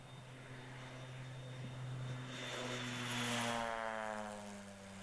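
A propeller-driven agricultural airplane flying past over farmland, its engine drone rising to a loud peak as it nears and then fading, with a steady tonal hum and a sweeping whine alone throughout.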